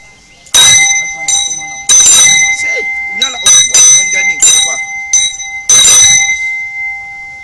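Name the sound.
ringing bell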